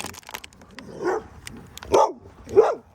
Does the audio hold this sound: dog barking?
yes